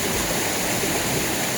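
Ghonsari waterfall in a forest setting gives off a dense, constant rushing roar of falling and flowing water, loud and steady with no breaks or voices.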